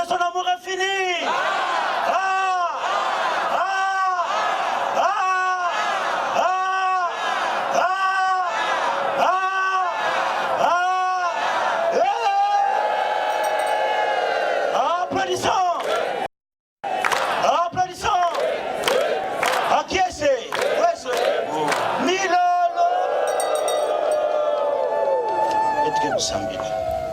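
A church congregation at a French-language service acclaims and cheers God, a continuous roar of many voices rising in rhythmic waves of shouts and cries, filling the space loudly with only a brief pause.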